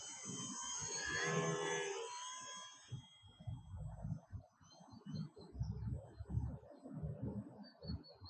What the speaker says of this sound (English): doing touch and go with this RC airplane without any worries for nose over is just super fun